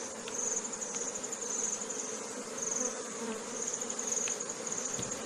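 A mass of honeybees buzzing as they are swept off a sealed honeycomb during honey harvesting in Anambra, a steady, fairly quiet droning hum with faint clicks and ticks scattered through it.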